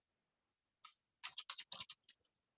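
Typing on a computer keyboard, a few isolated key clicks followed by a quick burst of rapid keystrokes, close and crisp against near silence, with no talk.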